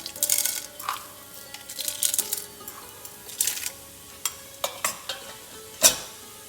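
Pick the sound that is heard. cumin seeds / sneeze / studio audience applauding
cumin seeds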